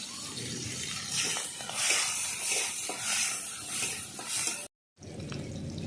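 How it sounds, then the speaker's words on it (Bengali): Prawns fry in oil with turmeric and salt, a dense bubbling sizzle that swells and ebbs with stirring, cut by a brief silent gap before the frying resumes. "চিংড়ি মাছ আমি এক এক করে সব ভেজে নিলাম"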